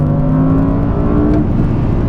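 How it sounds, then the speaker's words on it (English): A 2019 Audi R8 supercar with a normally aspirated engine and 7-speed S tronic gearbox revs hard under acceleration, giving a loud, steady, close engine roar with rich harmonic drone and no talking. "Yeah, it's a very rev-happy engine actually."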